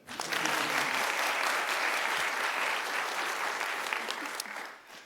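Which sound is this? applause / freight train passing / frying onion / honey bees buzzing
applause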